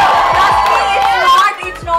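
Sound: small group hooting and cheering

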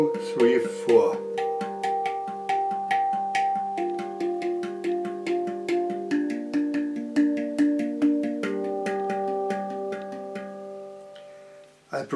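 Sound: hang handpan rhythm pattern

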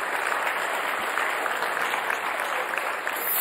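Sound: audience clapping for Sarah

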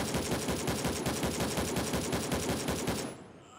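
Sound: gunfire in the video game Gray Zone Warfare

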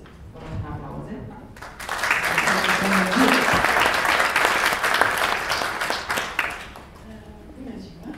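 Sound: applause

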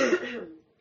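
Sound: coughing

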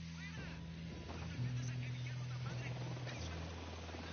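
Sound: helicopter flying in a video game

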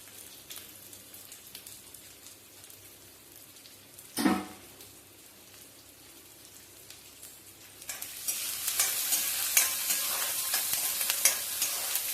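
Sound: frying onions in a pan

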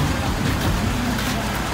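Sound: heavy rain

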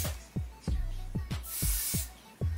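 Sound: spraying onto a wig cap

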